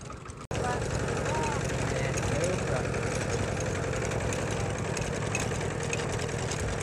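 A two-wheel walking tractor, the rot tok-tok type used for ploughing and travel, idles with a steady low rumbling chug that runs continuously after a brief cut at the start, with speech over it.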